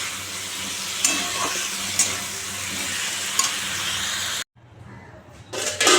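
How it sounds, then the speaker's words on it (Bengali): Spices for a fish curry are sautéed in a pan with green chilli, black pepper powder, salt and turmeric, giving a steady sizzle with occasional scraping stirs, then a sudden drop to near silence followed by renewed clatter. "চলো এটা কষাই, কষিয়ে জল ধরে দেবো।"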